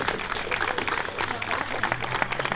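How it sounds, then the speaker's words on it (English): Steady applause from a crowd at a UO faculty and staff gathering, a dense patter of claps holding at an even level throughout. "If you'll please give your round of applause to welcome them."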